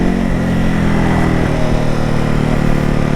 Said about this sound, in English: It does have your typical Ducati sort of little crackles and bangs on the overrun.